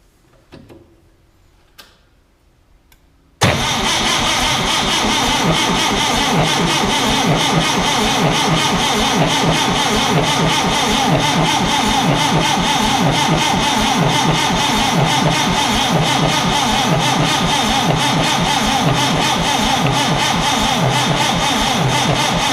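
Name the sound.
forklift engine cranking on starter, trying to start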